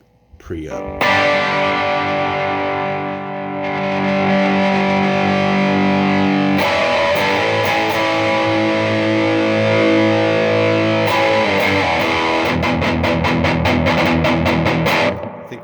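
Distorted electric guitar played loud through a Peavey Triumph 60 amp with the preamp gain cranked, sustained chords ringing out, then rapid choppy strummed hits toward the end, with no talking.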